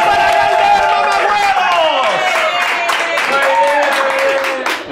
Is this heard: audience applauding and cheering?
yes